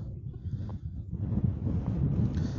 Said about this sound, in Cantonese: 哇！ 好大風啊今日